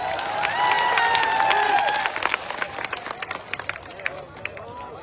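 Crowd clapping at a Thakor community gathering in Gujarat: a voice calls out loudly at first, then scattered, uneven claps and cheering rise from the crowd and continue to the end.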